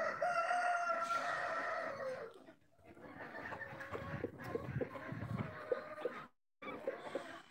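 Chickens cluck close by while a rooster crows loudly, the crowing and clucking coming in several bursts with short pauses and a brief drop to near silence.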